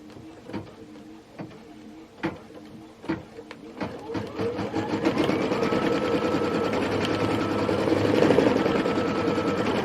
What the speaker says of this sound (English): Place my trunk fabric down and stitch it down